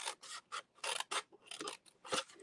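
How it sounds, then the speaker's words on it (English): Snips cut through paper card stock in a string of short, crisp snipping strokes, close and fairly quiet, each cut a quick bright rasp separated by brief pauses. "take your snips and you just want to cut up to here and to here"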